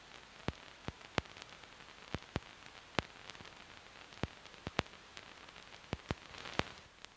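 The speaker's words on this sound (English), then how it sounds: "the record effect gives the sensation if an old record is playing" Old vinyl record crackle from the record effect on a Roland SP-808 sampler: a faint steady hiss broken by sharp, irregular clicks and pops spread across several seconds, with no voices.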